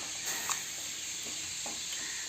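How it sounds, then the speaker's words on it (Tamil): Water at a rolling boil in a clay pot, a dense steady hiss with soft bubbling pops, close and even throughout. "இப்போ தண்ணி நல்லா கொதிச்சிருச்சு."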